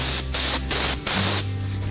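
Texture paint sprayed onto a wall around a taped electrical outlet, heard as four loud hissing bursts of spray separated by short pauses, with a steady low hum running underneath.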